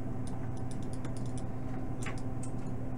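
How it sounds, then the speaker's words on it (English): Fingers tap a computer keyboard at home, with scattered quick, light clicks in short bursts that sit faintly over a steady room hum. "Okay, just typing a few things away."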